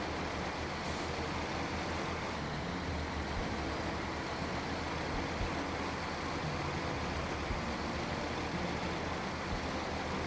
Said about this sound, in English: Caribou does sound good. It is a really good sounding truck.